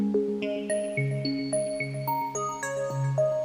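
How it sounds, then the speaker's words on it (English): Hydrasynth synthesizer playing a wave sequence swept by a slow LFO, a run of bright tonal notes whose timbre shifts from note to note in an even, repeating pulse, clear and alone. "you can hear the different waves in my wave sequence coming in"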